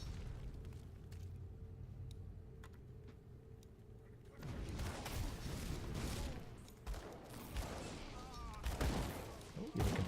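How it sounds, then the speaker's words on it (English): MIRV explosions in the Grim Dawn video game go off in a dense, booming volley that erupts midway and keeps rumbling loud and close, following a quieter stretch with a steady game hum. "I also like freezing them in the MIRV explosions."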